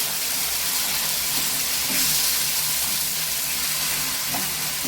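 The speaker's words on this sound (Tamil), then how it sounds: "அது கொஞ்சம் ஊற்றி நம்ம இந்த மாதிரி நல்லா கலந்து விட்டுக்கலாம்ப்பா." Water is poured into a simmering tamarind curry and stirred in, giving a steady, loud hissing sizzle with faint scraping throughout and no talking.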